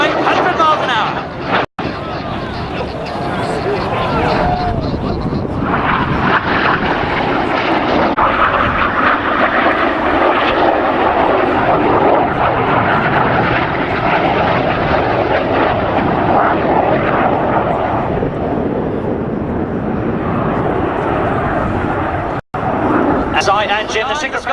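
Red Arrows display jets roar past at an air show, a loud sustained jet rush that lasts throughout, with a commentator talking over the noise.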